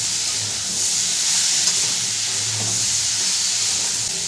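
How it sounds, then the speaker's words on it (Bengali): Potatoes for Bengali alu posto frying in a pan, a continuous close sizzle with soft stirring and scraping sounds throughout, no talking. "আলুটা ভালো করে ভাজা হয়ে গেছে।"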